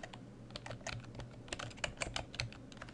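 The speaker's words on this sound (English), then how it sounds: "And I'll go ahead and type rectangle." Rapid, close keystrokes tap out a short word on a computer keyboard during AutoCAD 2014 work, quiet and steady with no talking.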